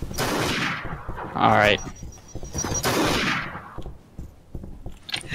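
Gunfire in the video game Garry's Mod, Trouble in Terrorist Town mode: several sharp shot bursts in quick succession, loud and close, with players talking over and between them.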